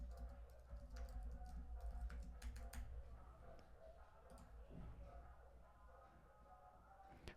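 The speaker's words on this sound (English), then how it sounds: "So I'm going to simply enter my password." Password typed on a computer keyboard, heard as a quiet, steady run of small key clicks over a low background hum for several seconds.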